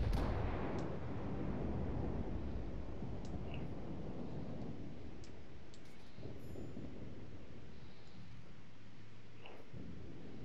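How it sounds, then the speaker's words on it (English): Heavy naval gunfire aimed at the battleship Amagi in World of Warships, a deep booming roll that rumbles loud at the start and lingers as distant thunder-like reverberation, with a few faint higher pings scattered through. "Let's get some heavy fire on that Amagi"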